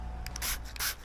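Hand sanding the lens of a 2010 Audi TTS xenon headlight: short, close rubbing strokes in quick bursts, with a steady low hum underneath and no talk.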